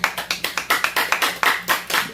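About eleven sharp hand claps in a quick, fairly even rhythm, close and loud, with nothing else around them.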